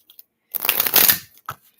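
A deck of tarot cards riffled once in a short, close, crisp burst, with a few faint card taps before and after.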